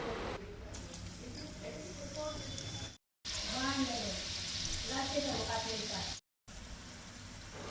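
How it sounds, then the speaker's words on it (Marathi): Goan coconut nevryo pastries fry in hot oil with a soft, quiet bubbling sizzle, while someone talks over it; two brief silent gaps interrupt the sound. "तेल तापले की एक एक नेवरी तितून सोडूंक जाय"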